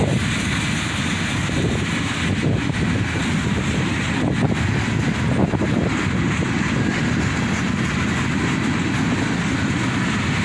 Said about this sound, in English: Here comes the unloader at the end of the continuous rail train portion.